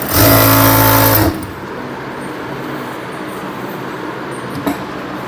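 Loud sewing machine running for about a second while stitching a Patiala pajama, then stopping abruptly and leaving quiet room tone with a faint click.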